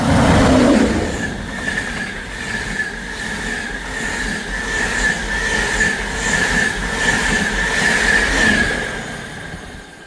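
A Northern train runs through Bentley station in South Yorkshire with a loud rolling rumble and a sustained high wheel squeal, swelling and fading as the carriages pass close by.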